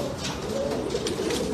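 A king pigeon with blue colouring at a pigeon auction gives a short, soft coo, close by, over steady background hum.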